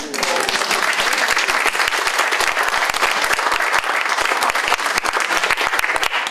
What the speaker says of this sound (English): first I'd like to give them a round of applause